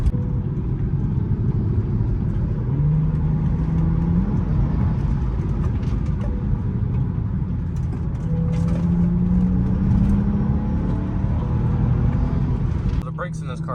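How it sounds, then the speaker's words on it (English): A BMW X1 xDrive35i M-Sport launches under launch control, its engine a loud, steady rumble with a drone that climbs in pitch as the car accelerates hard. The engine noise fills the clip continuously. "stop and kind of do our little launch control procedure and then get a good launch going"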